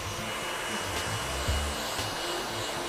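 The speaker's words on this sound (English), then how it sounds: "take your trusty dryer and really blast the hair dry with the dryer" A hair dryer blows hot air through hair in a steady, loud, close roar, the airflow sound shifting slightly as the dryer moves.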